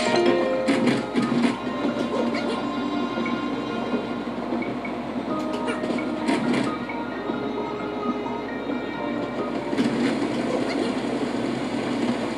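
Steady rumble and rattling clatter of the Excess Express train running at sunset in the Paper Mario: The Thousand-Year Door remake, a continuous rolling rail drone with clicking tones and bursts of brighter mechanical noise throughout.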